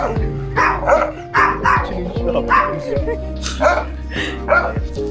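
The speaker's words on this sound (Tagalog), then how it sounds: "Ingay nung aso." A dog barks loudly and repeatedly nearby at an outdoor stop on Bantayan Island, Cebu, with a rapid irregular string of sharp barks and yips that runs throughout, while people talk underneath.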